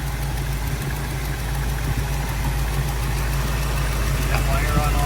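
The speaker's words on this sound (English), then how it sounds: "This engine's shaking a little more than usual." A car engine idles roughly and shakes more than usual, with a suspected loose or arcing coil wire; a loud, steady, close rumble with a throbbing, uneven pulse runs for the whole stretch.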